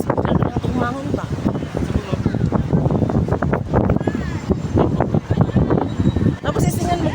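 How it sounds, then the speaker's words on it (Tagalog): A sudden wind gust buffets the microphone outdoors while walking near hotels in Macau's Taipa area, a loud rumbling roar that persists throughout, with people talking over it. "Grabe talaga, ginulo ang aming buhok. Bigla lang itong humangin."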